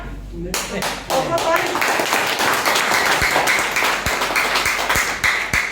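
Audience clapping at a motivational success seminar, a close, loud burst of many hands that continues steadily for several seconds after a brief spoken line.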